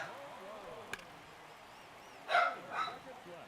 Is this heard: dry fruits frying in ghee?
no